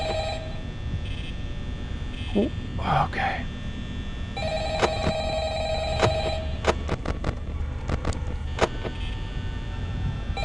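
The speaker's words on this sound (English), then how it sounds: "Wait, where's my phone call?" Telephone ringing in the Five Nights at Freddy's video game, a series of repeated ring bursts in the second half over a low background hum, with a person briefly speaking earlier.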